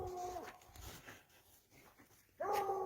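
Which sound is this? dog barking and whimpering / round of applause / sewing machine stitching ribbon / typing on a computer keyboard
dog barking and whimpering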